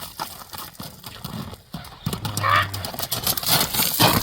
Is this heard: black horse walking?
yes